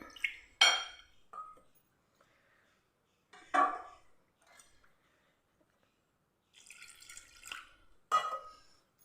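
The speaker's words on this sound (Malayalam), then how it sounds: "ഇനി നമുക്കിതിലേക്ക് വെള്ളം ഒഴിച്ചിട്ട് നല്ലപോലെ നമുക്കൊന്ന് കലക്കിയെടുക്കാം" Water poured into a bowl of maida flour batter and stirred, heard as a few short splashy, clinking bursts separated by quiet gaps, with a longer stretch of wet mixing near the end.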